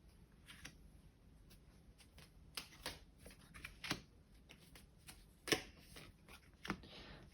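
Tarot cards being shuffled and drawn by hand, a run of soft riffling and sharp card snaps at an irregular pace, close and quiet with no talk.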